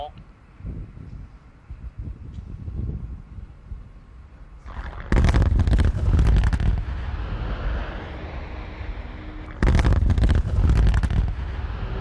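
A mine blast on a rock face goes off in two loud, booming bursts of explosive roar with rumbling debris, heard from a distance and preceded by quieter outdoor sounds.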